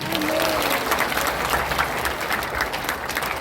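A church congregation claps in dense, steady applause lasting a few seconds, close and loud, with a brief voice cutting in near the start.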